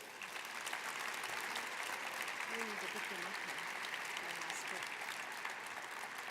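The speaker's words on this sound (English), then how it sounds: "Can we please have one more round of applause for our winners?" Audience at an arts awards ceremony applauding the winners, dense continuous clapping from a large crowd with some faint voices mixed in, sustained for the whole stretch.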